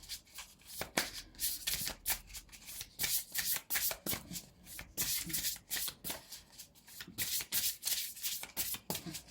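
Oracle cards riffled and shuffled by hand in repeated quick bursts of papery flutter, close and fairly soft, with short pauses between shuffles and no talking.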